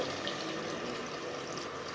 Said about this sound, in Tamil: நான் இப்போ ஒரு 1/2 கப் தண்ணி சேர்க்குறேன்